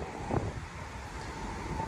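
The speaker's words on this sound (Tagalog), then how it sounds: "kaya malakas yung hangin at alon dito nga sa Baywalk" Steady, strong wind roars and buffets the microphone, with a brief rumble partway through and no voices. Storm wind at the Manila Bay Baywalk during a typhoon.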